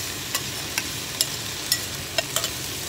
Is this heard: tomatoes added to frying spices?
yes